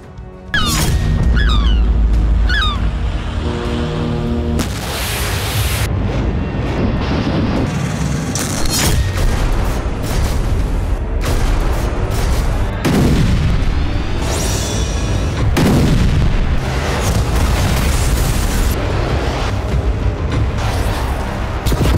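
Explosions and artillery fire from an attack on Crimea boom repeatedly, loud heavy blasts and crashes arriving in irregular bursts over a continuous rumbling roar, with no talk over them.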